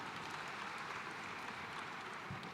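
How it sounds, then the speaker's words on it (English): An audience applauds after the first round of a panel discussion, a faint, even patter of many hands clapping steadily for a couple of seconds with no voices. "I think they all deserve a big round of applause for the first round"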